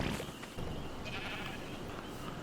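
A sheep bleats in the survival game Ark: Survival Evolved: short, wavering animal cries over a steady, noisy ambient background, fairly close and moderately loud, with no talking.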